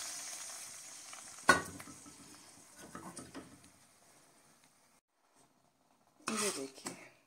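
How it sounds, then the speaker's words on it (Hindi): Hot tarka tempering hits a pot of moong dal with a sharp crackling sizzle, fades to a soft simmer, then sputters loudly again near the end, with a voice talking over parts of it. "और उसके बाद हम ये भगार दाल के अंदर डाल देंगे।"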